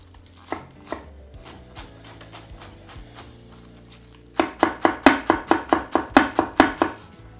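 A knife chopping thinly sliced scallions on a cutting board, a few scattered cuts at first, then a fast, even run of loud, close chops.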